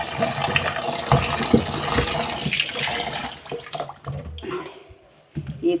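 Tap water runs and splashes while vegetables are rinsed clean by hand, with irregular gushes and handling clatter before the flow drops off briefly near the end and then resumes.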